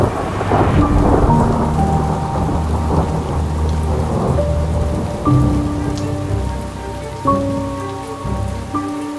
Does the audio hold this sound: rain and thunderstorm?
yes